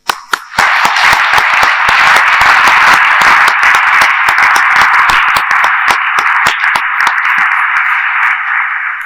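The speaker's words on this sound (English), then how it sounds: "A round of applause for you." Sustained applause from a graduation ceremony crowd, a dense, loud wash of clapping with sharper individual claps standing out, continuing steadily for several seconds.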